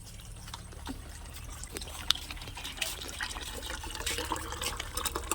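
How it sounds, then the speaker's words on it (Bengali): Tap water runs into a bucket in a home bathroom, a soft steady splashing trickle with faint gurgles, fairly quiet and close, with no talking. "বালতিটা ভর্তি হয়ে গিয়েছে জলটা বাথরুমে ভরে দিই"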